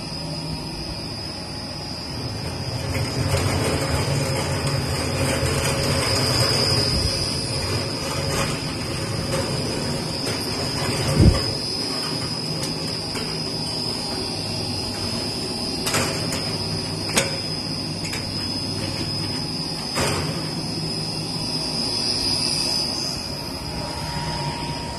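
A Karvil 6000L industrial ribbon blender for powder and granule mixing runs under inverter speed control, producing a steady, loud mechanical drone with a persistent high whine and occasional knocks, with no voices.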